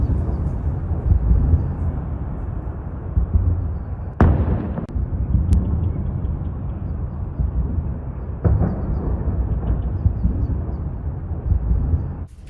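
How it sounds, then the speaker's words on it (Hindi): Explosions from an Iranian missile attack on Tel Aviv boom out at a distance, a few sharp blasts standing above a continuous rumbling roar, with no voices. "हमले के बाद धमाका हुआ, धमाके की आवाज सुनी गई।"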